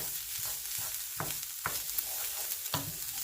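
Salmon cakes fry in a pan with a constant crackling sizzle, interrupted by a few soft knocks and scrapes as they are moved about.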